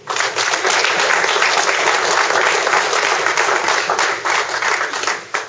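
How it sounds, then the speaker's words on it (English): Applause from a church congregation at First Baptist Colleyville, steady and dense clapping from many hands that holds evenly and then tapers off near the end. "let's give a First Baptist Colleyville applause"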